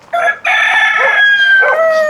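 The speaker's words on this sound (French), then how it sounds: "Il y en a qui sont en enclos des coqs" Roosters crowing on a farm with penned and free-roaming birds, a loud, close, sustained crow with a second crow following near the end, no voices present.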